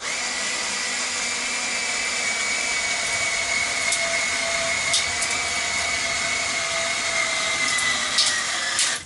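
A Black & Decker drill drives a 3.5 inch screw, a steady high motor whine with a few brief clicks and strain shifts near the end, loud and close with no talking.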